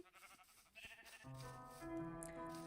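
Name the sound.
sheep bleating in Minecraft video game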